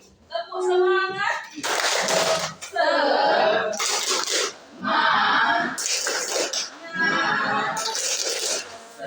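A class of children performs a rhythmic clapping chant, bursts of group clapping alternating with chanted voices, loud and close.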